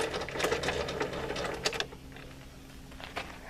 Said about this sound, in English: To raise or lower the blade, you just crank the handle.